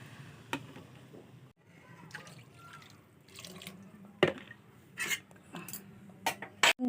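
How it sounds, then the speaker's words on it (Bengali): Water is poured into a pan of sautéed masoor lentils in a home kitchen, a soft splashing pour followed by sharper metallic clinks and knocks of utensils against the pan. "কষানো হয়ে গেছে, এখন দিয়ে দেব জল অতটা দিব না,"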